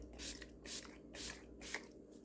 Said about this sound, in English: We're going to spray our face with the Scandinavia